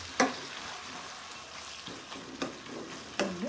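Tomatoes softening in hot oil for a fish curry, a constant low sizzle broken by a few distinct stirring scrapes and clacks from a spoon against the pan, close and without speech.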